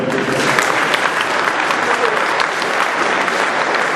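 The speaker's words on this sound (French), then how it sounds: "je voudrais d'ailleurs qu'on t'applaudisse" Club members at a kit handover event applaud their coach, steady crowded clapping filling the room at close range, with a few voices mixed faintly underneath.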